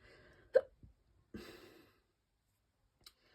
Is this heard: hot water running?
no